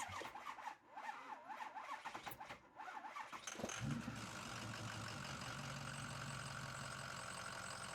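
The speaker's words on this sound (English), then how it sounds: "we're going to go ahead for the first startup after we put the new EGR cooler in" A Ford Powerstroke diesel with a new EGR cooler cranks several times and catches on its first startup, then settles into a steady, loud idle.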